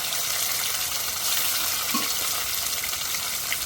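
Spice-rinsing water is poured into a hot pan of frying ground ginger, cumin and dried chilli with chopped tomato for a rohu fish curry, giving a steady loud hiss and gush throughout.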